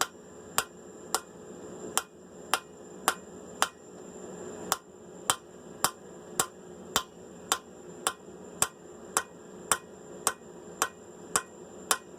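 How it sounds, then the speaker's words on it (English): A hammer planishing a forged ladder pattern Damascus steel blade rings out in a steady series of sharp, evenly spaced metallic strikes, close and clear with no talk. "So we're going to do some planishing, get some marks out of it"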